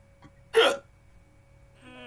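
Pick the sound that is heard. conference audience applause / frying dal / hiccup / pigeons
hiccup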